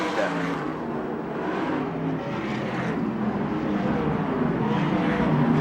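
USAC/CRA sprint cars race around Manzanita Speedway in a continuous, loud blur of engine roar with shifting pitch as cars pass, a commentator's voice partly mixed in.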